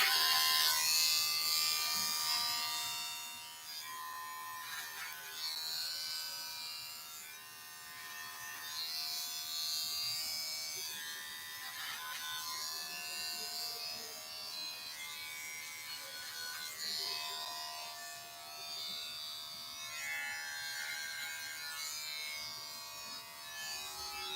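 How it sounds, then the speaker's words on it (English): Electric hair clippers cut hair at a barber's, buzzing steadily and close for a long stretch, with the pitch and loudness shifting slightly as the blades move through the hair. No one speaks. "that's all our clipper work done"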